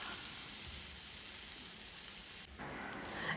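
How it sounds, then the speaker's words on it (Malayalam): About one and a half tablespoons of chopped garlic fries in melted butter, giving a steady, soft sizzle that hisses continuously with slight shifts in tone. No one talks over it. "അത് ഒന്ന് നമ്മൾ വറുക്കുക."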